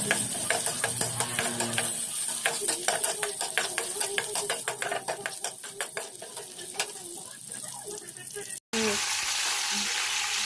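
Garlic and onion sizzle loudly in hot oil in a pan for squid adobo, a dense crackling fry with rapid spoon scrapes and clinks, close up, cut briefly near the end before the sizzle resumes.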